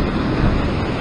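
Large ocean waves break on coastal rocks at a rocky fishing shore, making a steady close rush of churning surf and wind noise with no voices.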